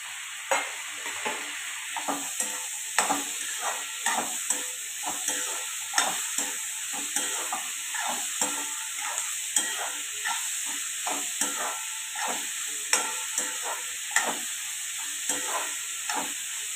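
Tomatoes and green chillies fry in a pan with a constant quiet sizzle and a steady high hiss, while a spatula scrapes and taps rhythmically about once a second throughout, close up and with no voices.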